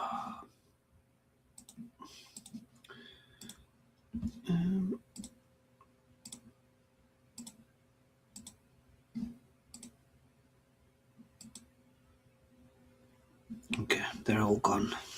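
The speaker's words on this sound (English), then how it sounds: "You might hear my mouse." Computer mouse clicking at a desk during live futures trading, a string of sharp, quick clicks spaced through the stretch, close to the mic, with some breathing and a few mouth sounds between them.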